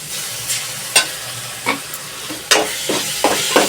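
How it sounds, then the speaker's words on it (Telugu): Ginger garlic paste frying in a pan for egg prawn curry, with a steady sizzle and several sharp spatula scrapes and stirs, close and loud with no talking. "బాగా వేగిపోయిందండి. కొంచెం అల్లం వెల్లుల్లి పేస్ట్ వేసుకుందాం."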